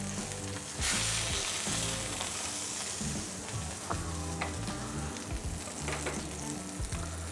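Rendered lamb fat sizzles hard in an overheated pan after a rack of lamb is lifted out, a loud continuous crackle with scattered sharp pops and spatters, no voices over it.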